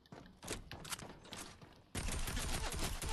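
Rapid submachine-gun fire in a video game, heard as close, dense bursts of shots that turn into a louder, sustained stream of fire partway through, with no talking.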